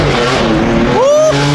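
A BMW M4 GTS engine revs hard close by with a steady roar, its pitch climbing sharply near the end as a paddle shift comes through. A voice is faintly present under the engine.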